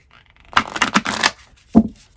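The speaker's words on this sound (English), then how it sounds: "I already did a bit of pre-shuffling. I always like to do some more once I hit record." A tarot deck is shuffled by hand in quick bursts of crisp riffling and card slaps, close and fairly loud, with a short pause before one last sharp snap of cards.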